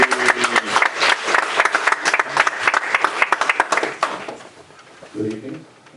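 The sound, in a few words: congregation applause in church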